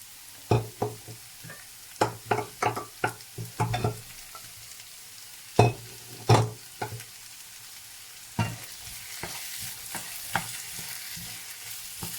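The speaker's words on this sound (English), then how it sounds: "we're gonna add in our other garden eggplant, okay, the white one." White garden eggplant frying in hot oil while being stirred, with a series of sharp scraping and clanking stir strokes over a steady low sizzle, close and fairly quiet, no talking.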